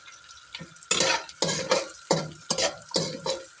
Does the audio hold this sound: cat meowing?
no